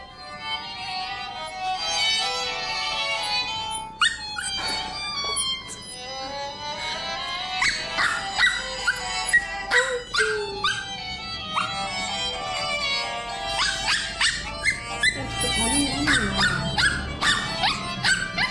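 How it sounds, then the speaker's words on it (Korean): A dog howls and whimpers in long wavering tones over string-heavy music, its cries rising and falling with the melody for an extended stretch. "노래하는 강아지 왜 그럴까요?"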